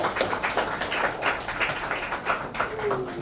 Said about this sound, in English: Ladies and gentlemen, please a loud round of applause for Mr. Rahul Motwani.